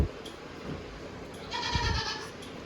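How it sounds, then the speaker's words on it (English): Newly arrived goats on a farm with cows about give a single clear bleat midway, close by, over faint ambient rustle and a few small thumps. "this is our new goats"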